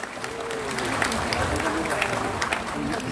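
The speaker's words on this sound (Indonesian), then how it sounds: "Tepuk tangan untuk para pengurus." A large crowd at a Partai Demokrat inauguration of Central Java branch chairs applauds the officials, a dense, full wash of clapping mixed with loud crowd noise and voices.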